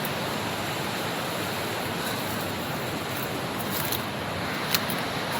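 Water rushes through a dense forest stream, a steady, broad roar filling the scene from start to finish with no talk over it.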